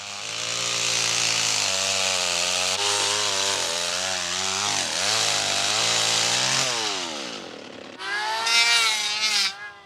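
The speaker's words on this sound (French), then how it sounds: "Yona a laissé tomber la hache pour adopter la tronçonneuse" A chainsaw whines steadily through soft wood, its pitch dipping and rising as it bites in, then a higher-pitched revving burst near the end.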